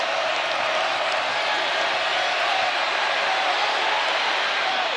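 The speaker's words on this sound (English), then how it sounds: "Now that crowd here at Carter Finley Stadium gets going." Steady, dense roar of a football crowd at Carter Finley Stadium during an NC State versus Virginia Tech ACC game, a continuous broad wash of cheering and whooping that holds at a constant level throughout.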